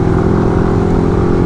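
A Yamaha Y16 motorcycle engine runs at a steady, loud, close drone with a low buzzing tone and no talk, heard outdoors during a ride.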